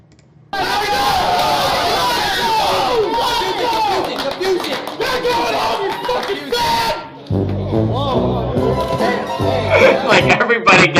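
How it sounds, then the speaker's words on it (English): A large indoor esports arena crowd roars and chatters loudly throughout, with a sudden shift in the noise partway through before the excited din rises again. "listen to the energy in this crowd"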